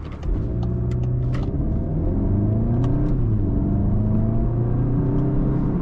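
A BMW or VW car in sport settings and manual mode accelerates with a steady, loud engine rumble and rising whir that stays close and continuous throughout, with no talking.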